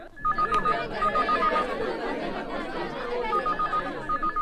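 A telephone rings in an Indian film scene, its repeating electronic trill heard in clear bursts at the start and again near the end, with murmuring voices and a busy background underneath.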